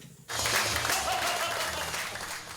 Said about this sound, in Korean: 드디어 연극이 끝나고 후배들을 위해 격려의 박수를 보냅니다